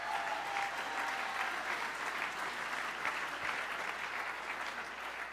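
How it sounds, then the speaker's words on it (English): Steady, dense audience applause fills a ballroom gala, sustained and even throughout with no voices rising above it. "How about a round of applause for our new friends?"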